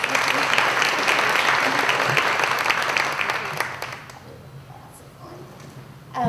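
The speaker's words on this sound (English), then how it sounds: "Round of applause for them, please" An audience at a luncheon series event claps for its sponsors, a full burst of applause that holds for a few seconds and then dies away quickly into room quiet.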